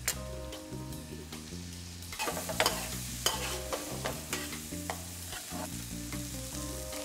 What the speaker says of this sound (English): I'm gonna add in now my one diced onion,